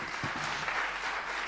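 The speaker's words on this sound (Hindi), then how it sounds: "मेरे ख्याल से आपको तालियों से स्वागत करना चाहिए।" Steady applause from a crowd at a public event, a dense wash of clapping that stays even and loud throughout.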